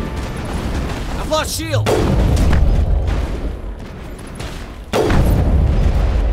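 Rocket blasts boom in combat in the Mass Effect video game, loud heavy bursts near the start and again near the end over continuous battle noise, with someone shouting in between.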